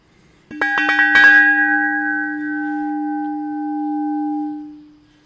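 A solid, uncut carbon dioxide cylinder bell struck in a quick flurry of hits, then sustaining a clear ringing tone with a few bright overtones that holds steadily before fading, close and loud with no talking.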